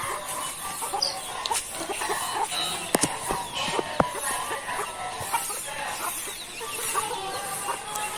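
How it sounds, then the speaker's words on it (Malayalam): Clucking and short calls from a Giriraja breed rooster kept with other poultry, steady moderate calls with a few sharp peaks over a busy farmyard background. "ചേവൽ ഗിരിരാജയിൽപ്പെട്ട ചേവലാണ്"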